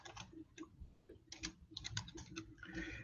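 Rapid typing on a computer keyboard while writing an SQL inner join query, a close, quiet burst of irregular key clicks and taps.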